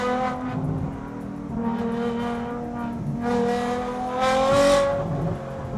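A Koenigsegg supercar engine revs and rumbles at a roundabout in Dubai, the note rising and falling in several throaty surges, fairly close and loud, with no talk over it.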